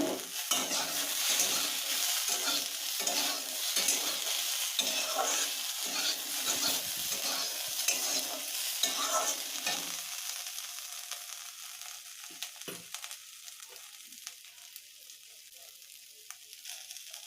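Potato and pea curry (chorchori) sizzles steadily in a pan while a spoon stirs it in repeated scraping strokes. The frying is loud at first and settles into a quieter sizzle partway through.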